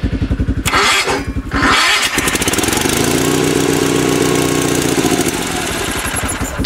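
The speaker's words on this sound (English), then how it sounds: "My Polaris is still running, so that's what's running in the background." A Polaris engine runs steadily with a loud, close, even mid-pitched drone and rhythmic pulsing, plus a rougher burst near the start, during a cold start of a Sears SS16 garden tractor on a booster battery in winter.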